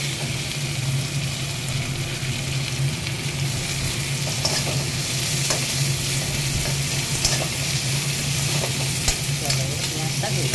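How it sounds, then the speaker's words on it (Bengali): Onions fry alongside a fish head in a pan, producing loud, steady sizzling and crackling with a constant hiss and occasional stirring scrapes throughout. "তাতে এটাকে ভালো করে পেঁয়াজটাকে ভেজে দেবো।"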